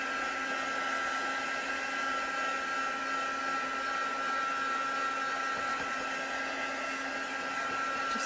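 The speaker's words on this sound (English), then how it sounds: "I'm just going to quickly dry that using my heat tool" A heat tool blasts hot air over damp watercolour ink on a card, a steady loud whirring roar with a constant whine, running unbroken throughout with no talk.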